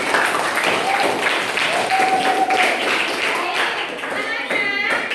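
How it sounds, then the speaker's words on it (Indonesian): A group claps together in brief, lively applause, with voices calling out over it, moderately loud and close. "Tepuk tangan untuk kita semua"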